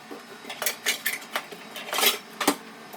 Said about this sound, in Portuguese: Vou pegar aqui a frigideira.